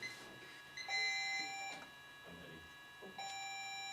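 Two electronic quiz buzzer tones sound a couple of seconds apart, bright and ringing over faint room noise and quiet shuffling.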